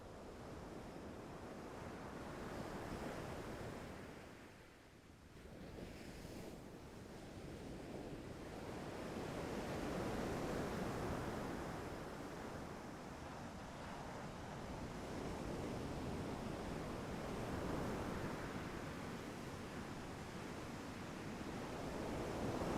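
Ocean waves break on a beach in a continuous roar that swells and recedes, with some wind mixed in and no one talking.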